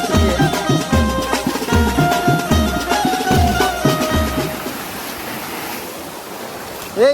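Fast-flowing river water rushes steadily and loudly at close range, with a continuous turbulent roar that thins out toward the end.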